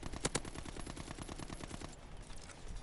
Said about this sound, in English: I'm using the new SMG, which this thing's pretty slow fire rate